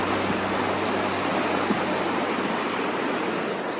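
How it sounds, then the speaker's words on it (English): Bright Angel Creek at the bottom of the Grand Canyon, near the campground, makes a steady, close rush of flowing water, a dense unbroken wash with no voices. "that's the Bright Angel Creek"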